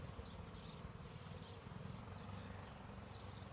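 Honeybees hum in a steady, dense drone around an open hive during a second-month inspection by a new beekeeper, a continuous low buzz with no talk over it.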